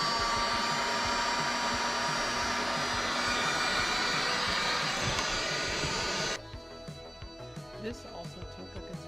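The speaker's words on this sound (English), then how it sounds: "using a heat gun to heat up the tint gradually and peeling it away" A heat gun blows with a loud, steady whirring roar while warming and loosening window tint on a 1990 Jeep Comanche, then cuts off abruptly near the end, leaving quieter room noise with faint clicks.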